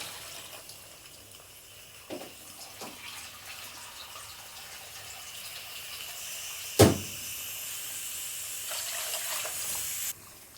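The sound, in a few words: water being poured into a pot of rice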